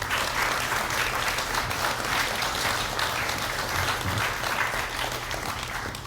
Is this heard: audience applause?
yes